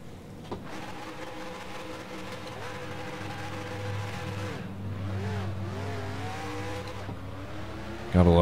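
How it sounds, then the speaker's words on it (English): A stock car in the NASCAR Racing 2003 video game doing a burnout: a sustained, whining engine drone whose pitch wavers and climbs, with a sharp loud burst at the very end. "you can do burnouts when you have the grip turned up"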